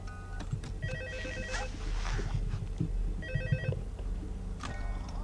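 A telephone ringing in the Five Nights at Freddy's 2 video game, a repeated electronic ring in two bursts over a steady low game ambience, fairly loud and with no talk.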